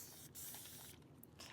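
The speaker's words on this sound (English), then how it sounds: "So let me spray our mold." A mold for a resin bowl gets sprayed, a steady close hiss of aerosol in short bursts with brief pauses, faint overall and no talking.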